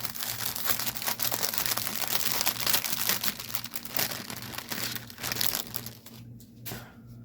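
A plastic bag holding embroidery threads is crinkled and handled close up, a continuous rustling crackle that thins out and fades near the end.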